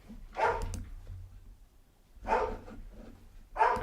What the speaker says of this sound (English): I'm very sorry for my dogs.